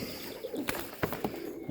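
A pigeon is placed into a loft, with a soft coo, a few quick wing flaps and light scuffs close by, all fairly quiet within under two seconds.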